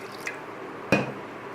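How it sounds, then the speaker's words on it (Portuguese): A small splash of water added to a pan of cooked chicken being prepared for a Dukan diet meal, heard as a faint drip followed by one clear wet squish and a brief sizzle-like fade. "Aqui nesse ponto eu vou adicionar um pouquinho de água."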